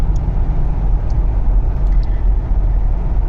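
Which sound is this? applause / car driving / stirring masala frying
car driving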